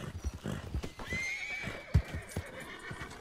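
A horse in Red Dead Redemption 2 gives a rising, wavering whinny amid soft hoof clops and a few thuds, close and moderately loud, with a little talk faintly underneath.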